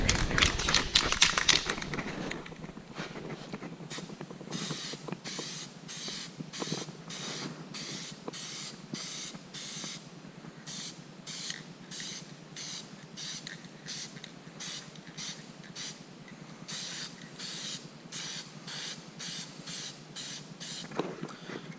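A Rust-Oleum gloss black lacquer spray can coats a 1968 Dodge Dart grille, first in a long hissing burst, then in many short, close, evenly spaced spurts.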